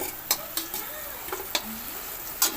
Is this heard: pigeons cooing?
no